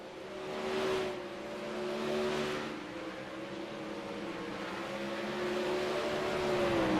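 Dirt track sprint cars idle around the oval on slow pace laps to warm tires and burn off fuel, a steady droning engine hum with swells as cars pass by, moderately distant, with no talk.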